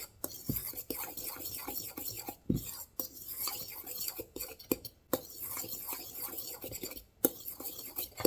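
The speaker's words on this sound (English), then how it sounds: "take a fork and I'm going to partially mix this up" Quick, irregular scraping and clinking of a fork against a bowl mixing egg-based pancake batter, close up, with brief pauses between bursts of stirring.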